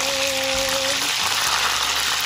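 Chicken wings sizzle steadily in a hot frying pan, a dense continuous hiss and crackle close up, with a brief tonal hum early on and no talking.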